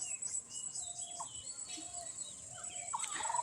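Chickens on a poultry farm, the last few birds scattering as they are caught, give scattered squawks and chirping calls that stay fairly faint against a quiet background.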